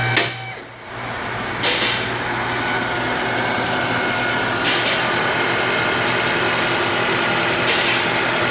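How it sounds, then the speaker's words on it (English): A Honda Civic engine, just fitted with a new VTEC solenoid, cranks briefly and then settles into a steady, loud idle that hums on without a break, with a few faint clicks over the running engine. "So now all that's left to do is start this engine up"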